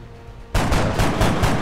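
Gunshots from XCOM: Enemy Within burst in loudly after a quiet start, several heavy shots in a rough rhythm over a sustained rumble.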